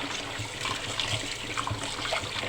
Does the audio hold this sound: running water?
yes